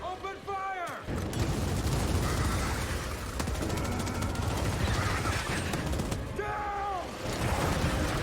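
Sustained gunfire from Gears of War 5 fills the scene loudly and continuously, dense bursts layered with heavy low-end rumble, with shouted voices briefly cutting in near the start and end.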